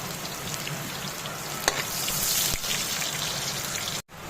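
Garlic and onion fry in a pan for pansit bihon with sardines, giving a steady close sizzle with scattered crackles and a few sharp stirring clicks, without any talk.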